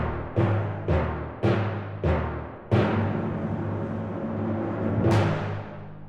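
Timpani pounding out a grand orchestral ending: five heavy, evenly spaced strikes alternating between two pitches, then a sustained rumbling swell with a final accented hit.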